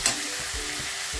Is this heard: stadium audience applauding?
no